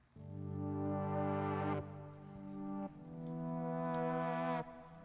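A keys part from the mix of a Hindi song, playing long sustained rich chords in three held swells with soft reverb tails, solo and fairly quiet, no talking.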